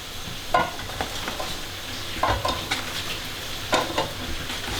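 Egg whites frying in a pan, a soft sizzle broken by a few separate scraping stirs close by, with no talk.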